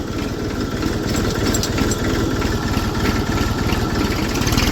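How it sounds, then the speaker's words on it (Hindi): A tractor engine idles and chugs steadily close by, with a strong low pulsing rhythm and constant vibration throughout, no voices over it, on a farm during sugarcane field work. "चलो जी चल रहे हैं लेकर ट्रैक्टर को।"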